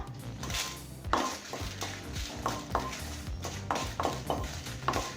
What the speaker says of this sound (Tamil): ஸ்லோலே வச்சு மிளகாய் கலர் மாறாத மாதிரி வறுத்துக்கோங்க